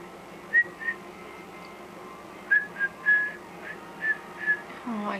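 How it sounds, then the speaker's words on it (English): A pet bird whistles a few short, bright notes of Jingle Bells indoors, scattered chirpy whistles separated by pauses, fairly faint against a quiet room. "Coco, can you whistle Jingle Bells?"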